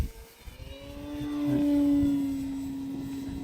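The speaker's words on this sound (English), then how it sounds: "Love the way the wooden prop sounds on this plane." A model airplane's wooden propeller drones steadily, its pitch rising and swelling louder as it passes by, then easing slightly while continuing to hum.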